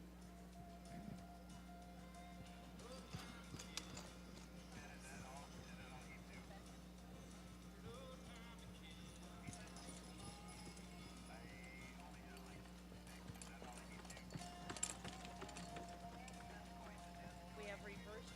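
Harness horses trot in a ring at a registered mare cart show, pulling carts; a steady patter of hooves runs throughout under a constant low engine-like hum, with an announcer's voice over the top.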